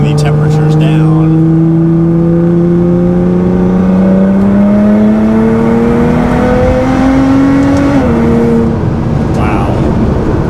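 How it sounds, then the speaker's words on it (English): Nissan GT-R with an upgraded front-mount intercooler accelerating hard in race mode, its engine note climbing steadily in pitch through a long pull before a brief gear change, loud and continuous from start to finish. "we're gonna beat on the car a little bit, get some temperature rolling"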